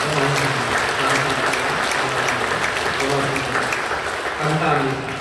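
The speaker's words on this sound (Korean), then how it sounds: "우리가 뜨겁게 박수로 환영해 주시겠습니다" A church congregation applauds in welcome, a loud, steady wash of clapping that fills the room for several seconds, with a sustained tone or music held beneath it.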